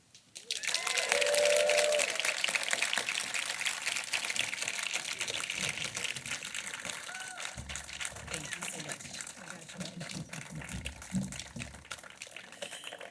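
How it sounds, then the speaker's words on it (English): Audience applause at a Unity Walk event for Martin Luther King Jr. Day, steady clapping from a crowd that rises quickly and carries on for several seconds, with a voice speaking briefly partway through. "Let's give her another round of applause"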